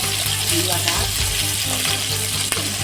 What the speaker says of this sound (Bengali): লাল লাল করে মাছ ভাজা প্রায় কমপ্লিটের মধ্যেই আর একটু ভাজা হবে